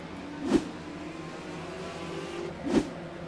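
Legends race cars at a dirt or short-track season opener, a steady engine drone with two louder passes swelling and fading about two seconds apart.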